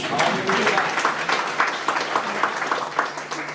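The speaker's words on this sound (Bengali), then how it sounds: "সুব্রা মাসিমের জন্য একটা জোরে হাততালি" A church congregation claps for a worship leader during a Bengali sermon, a fairly close round of applause with distinct rhythmic hand beats and some voices mixed in as it gradually tapers.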